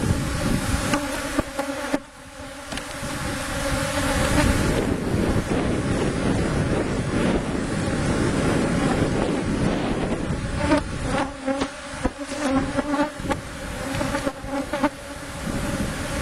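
Honeybees buzz steadily around an open hive during a beekeeping inspection, a dense continuous drone close to the microphone, with wind gusting across it throughout.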